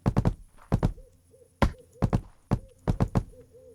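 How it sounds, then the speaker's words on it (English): An owl hoots in the Colony Survival video game: soft, repeated low hoots play behind sharp, loud thwacks and knocks that arrive in quick pairs and triplets. "the owl sounds"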